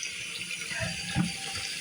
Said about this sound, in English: I know what the normal flow, volume, and pressure to this tap is, and this is barely a trickle.